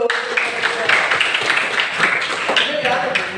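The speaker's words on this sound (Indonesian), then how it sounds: "Tepuk tangan dulu." A classroom of students claps together during a teaching practice lesson, a dense, steady patter of many hands lasting a few seconds, with voices mixed in.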